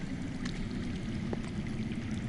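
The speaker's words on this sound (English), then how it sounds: "I hear water. From underground." Water flows underground in a cave setting in Telltale's Game of Thrones, a soft, steady gurgling trickle heard quietly and without talk.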